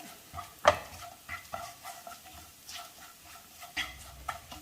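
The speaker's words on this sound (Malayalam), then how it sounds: "മുളക് പൊടി, കായപ്പൊടി. ഇത് ചെറുതീയിൽ വെച്ച് തന്നെ ഒന്ന് മൂപ്പിച്ചെടുക്കണം." Turmeric, chili and asafoetida powders roast gently in oil over a low flame for green chilli pickle, giving a faint, quiet sizzle broken by soft spoon scrapes and taps.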